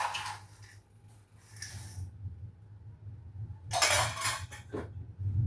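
A utensil clinks and scrapes against a bowl while homemade vanilla ice cream with biscuits is stirred slowly, in scattered bursts over a low hum.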